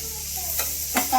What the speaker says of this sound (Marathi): कांदा चांगला ना भाजून घेणार.